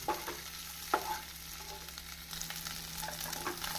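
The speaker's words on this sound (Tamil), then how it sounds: "வெங்காயம் வதங்கவும் நாம் தக்காளியை நறுக்கி போட்டு விடலாம்" Onions, green chilies and curry leaves sautéing in a pan for a black chickpea kulambu, with a steady low sizzle, a sharp stirring clatter near the start and light scraping throughout.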